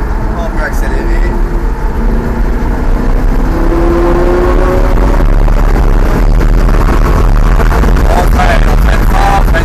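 A Lamborghini Gallardo accelerating hard on the ICAR race circuit, the engine note climbing loud and close with rising pitch sweeps and a rough, roaring texture throughout.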